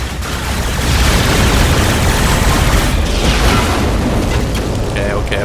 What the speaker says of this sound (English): Oh my god, rocket launcher, guys!